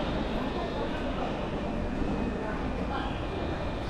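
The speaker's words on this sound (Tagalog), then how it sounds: "Mga tren." Trains sound at Shin-Imamiya railway station in Osaka, Japan, as a steady, fairly distant rumble of rail traffic under the station's ambient noise. Voices murmur faintly in the background.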